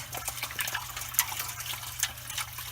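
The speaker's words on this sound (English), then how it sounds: "we're just going to gently add hot water to this" Hot water pours steadily into a container to wash a 1998 Furby, a continuous close splashing trickle with small drips throughout and no talking.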